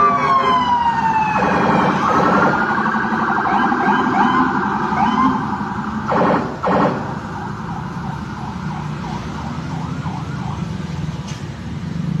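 A police escort vehicle wails its siren through a traffic jam, the rising and falling tone loud and close for most of the stretch, over a bed of road and engine noise, with no talking.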